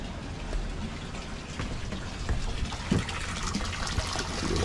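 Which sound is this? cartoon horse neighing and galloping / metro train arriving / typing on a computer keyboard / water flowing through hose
water flowing through hose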